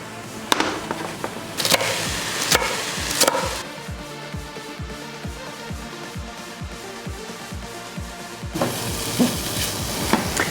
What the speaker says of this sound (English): So you're going to want to bring this down to where most of this liquid gets cooked out of it